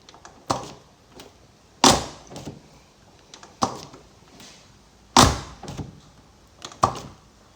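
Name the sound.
car door opening, frameless window dropping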